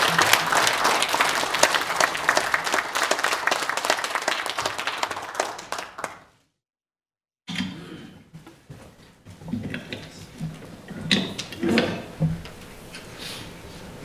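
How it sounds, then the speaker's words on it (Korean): Applause from a church congregation welcoming a pastor, loud dense clapping that cuts to a brief silence, then resumes more thinly with scattered claps and room noise. "나오실 때 큰 박수로 환영해 주시기 바랍니다"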